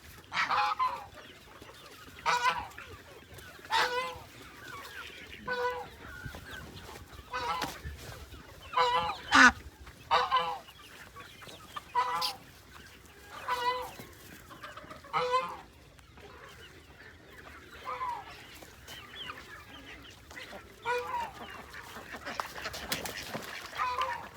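Ducks and geese honk and cluck in repeated close, loud bursts, with occasional voices talking in between at a poultry nest area.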